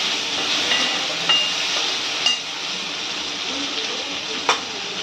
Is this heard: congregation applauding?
no